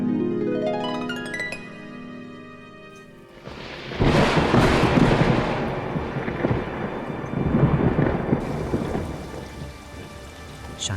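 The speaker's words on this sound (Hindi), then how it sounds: "इस गाय के आते ही बारिश शुरू हो गई" A thunderstorm breaks after a few seconds of gentle musical tones: heavy rain suddenly pours down hard on surfaces with loud rolling thunder, and the downpour keeps up steadily to the end.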